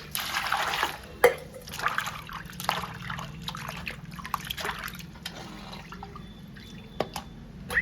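Dried fish being rinsed as water is poured over it: close, continuous trickling and splashing with drips and a few sharp clinks against the vessel.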